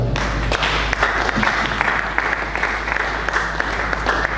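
A congregation at a church conference applauds, with dense, steady clapping filling the whole stretch at a fairly close, even level.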